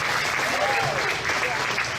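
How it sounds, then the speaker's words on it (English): Audience applause at a county fair livestock show ring, a steady dense wash of clapping for the exhibitors that holds at an even level throughout, with a voice faintly audible underneath. "let's give all these exhibitors a round of applause"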